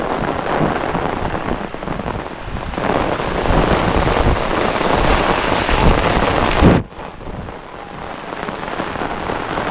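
Heavy storm rain lashes down on a Konkan farm, a loud, continuous roar with wind gusting against the microphone, cutting briefly near the end before the downpour resumes just as steady and dense.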